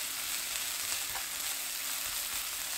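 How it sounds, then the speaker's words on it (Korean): Anchovies sizzle steadily in hot oil with minced garlic over medium heat in a pan, a continuous close crackle with occasional faint stirring, no voices. "기름이 골고루 배이도록 볶아줍니다."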